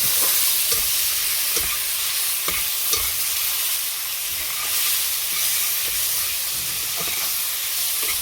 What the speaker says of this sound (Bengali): পরিমাণ মতন নুন, একটু ভালো করে ভেজে নেব মশলাটাকে